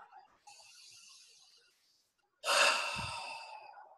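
Two close breaths during a guided meditation: a gentle inhale, a short silence, then a deeper, louder and longer breath out that tapers off, with no talking over them.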